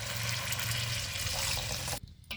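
Lukewarm water poured into a pan of curry in a home kitchen, a steady close rushing splash lasting about two seconds before stopping abruptly.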